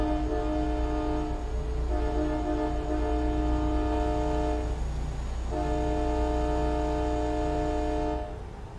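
A loud train air horn blares in long sustained harmonic blasts, briefly breaking around the middle before sounding again, with rumbling engine noise underneath.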